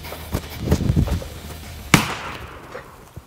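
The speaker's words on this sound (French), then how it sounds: "il n'y a plus de canon, il est complètement explosé" A 3D-printed ABS mini cannon clamped in a vise fires at an MDF board and bursts apart, giving one sharp, loud crack after a few softer clatters, followed by a faint tick.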